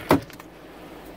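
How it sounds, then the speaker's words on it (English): A car door shut once, a single sharp thud up close followed by quiet cabin ambience. "Can you shut your door one more time?"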